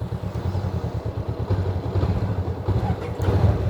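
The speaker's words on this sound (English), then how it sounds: "in terms of the sound of this engine, let's fire it up." A Honda NX500 motorcycle engine starting and idling close by, a low pulsing rumble that thickens slightly toward the end, with some wind noise on the mic.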